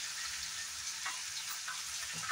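Cabbage curry with cumin and pepper powder frying in a pan, a steady soft sizzle with faint crackles and occasional stirring, quiet and even.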